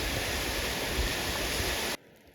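A 33-metre waterfall in winter forest in Tongariro National Park roars as a dense, steady rush of falling water, close and loud, cutting off abruptly near the end.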